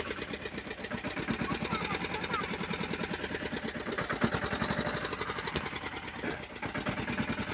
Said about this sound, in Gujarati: આપણે આ મિની ટ્રેક્ટર એટલે કે છનેડો ચલાવી રહ્યા છીએ